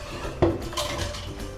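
A spoon working through a rice flour and milk mixture in a metal vessel, one sharp clink against the side followed by softer scraping and swirling, close up with no talk.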